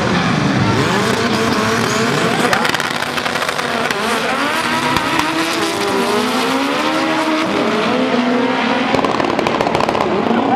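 Front-wheel-drive import drag car launching down the strip at Englishtown, a loud, close engine wailing and rising through gear changes, steady for the whole stretch.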